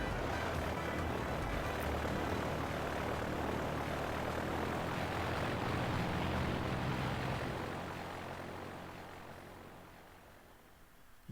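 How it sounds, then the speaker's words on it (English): Steady propeller-aircraft engine drone from a plane flying in a Pokemon White 2 cutscene, a loud continuous roar holding for about seven seconds before easing slightly quieter toward the end. "they actually went for and actually created that cutscene, actually showing that plane flying"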